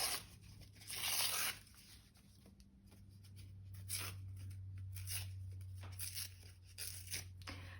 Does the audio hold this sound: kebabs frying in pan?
no